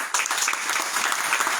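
A church congregation claps in praise to the Lord during a Spanish-language service, a short burst of dense applause that starts abruptly and holds steady.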